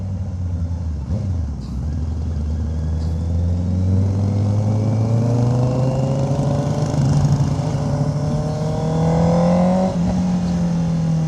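A motorcycle's exhaust drones loudly while riding, engine pitch rising and falling steadily with gear changes and throttle, close up and continuous with rushing wind noise.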